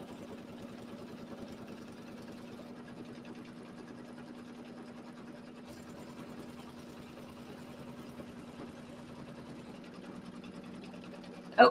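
A sewing machine runs steadily, stitching a tack down line through quilting fabric for a bench pillow, a continuous mechanical hum with a brief shift partway and a sharp click at the very end, with no talking.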